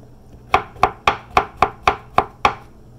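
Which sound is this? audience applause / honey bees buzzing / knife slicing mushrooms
knife slicing mushrooms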